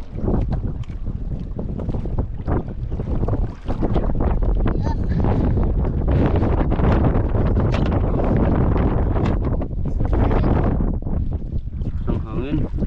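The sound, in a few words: strong wind at sea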